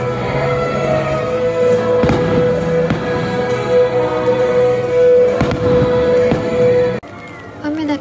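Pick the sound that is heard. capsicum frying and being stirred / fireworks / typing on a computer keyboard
fireworks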